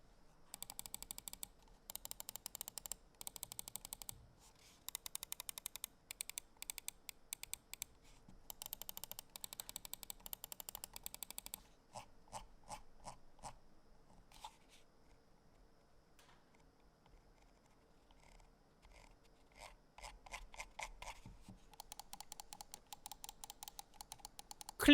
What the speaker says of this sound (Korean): 스위치의 특성상 클릭음도 큰 편이었고요